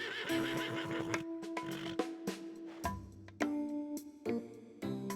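A horse neighs and whinnies repeatedly in the video game Love and Deepspace, loud and close, with clopping hooves and snorts between the calls.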